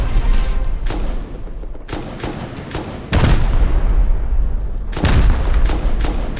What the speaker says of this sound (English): The C4 is still blowing off and they're rocketing before it's finished.